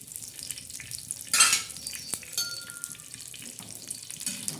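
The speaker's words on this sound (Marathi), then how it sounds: "आता आपण त्याच्यात मस्तपैकी असं कढीपत्ता टाकणार आहोत" Curry leaves drop into hot oil for a tempering and crackle at once in a sharp spitting burst. The oil settles into a steady close sizzle, and a utensil clinks once against the pan.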